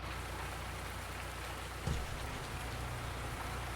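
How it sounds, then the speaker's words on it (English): Steady rain pours down in the Farming Simulator 19 game world on a Sussex farm in mid spring, a continuous even hiss of drops with one brief low thump partway through and no voices. "It's raining."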